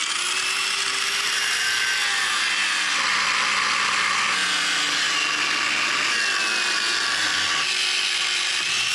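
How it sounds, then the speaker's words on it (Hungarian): An angle grinder cuts through metal brackets on a KTM 690 motorcycle, a continuous loud, high-pitched whine with a shifting pitch, running throughout with no talk. "Azért flexel vágom le, mert egész egyszerűen nincs más, amivel le tudom."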